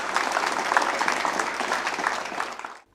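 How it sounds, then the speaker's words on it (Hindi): Audience applause welcoming a panelist at a school discussion event, an even spread of many people clapping, moderately loud, that tapers off and stops abruptly near the end. "तालियों से इनका स्वागत कीजिए।"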